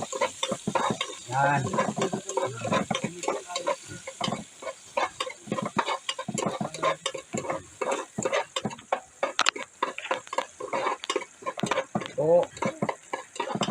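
Onions sautéing and being stirred in a pan, a steady crackle with repeated scraping strokes throughout, while someone talks over it.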